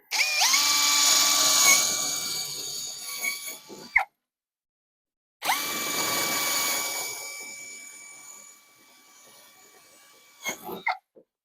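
A power drill with a 10mm bit whirs loudly in two long close bursts while drilling pilot holes, separated by a short pause, followed by a few light knocks and clatters.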